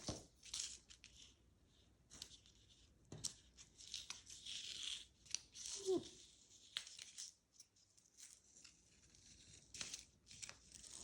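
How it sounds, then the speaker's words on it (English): Masking tape peeled slowly from watercolor paper, heard close up as faint intermittent tearing and crinkling strips. Quiet pauses separate the pulls, and there is a brief soft voice. "Let's take this tape off."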